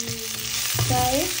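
The white part of a spring onion fries in a pan with a loud, steady sizzling hiss, close up, and a brief stir-like scrape partway through.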